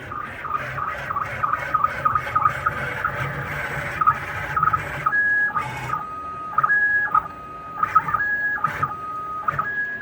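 A CNC machine run by Mach 3 at a high-speed feed rate, giving rhythmic stepper-motor whines and tonal beeps that repeat in short pulses and shift pitch, fairly close, with no talking.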